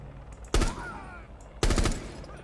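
Two loud bursts of gunfire in Rainbow Six Siege's Terrorist Hunt mode, about a second apart, each a sharp close crack with a short tail, over a low steady game background.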